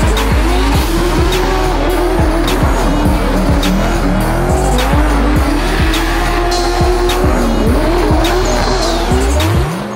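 Drift car at Drift Masters in Płock, its engine roaring and bouncing off the rev limiter while the tires squeal continuously through the slide, loud and close, with crowd and track noise underneath for the full stretch.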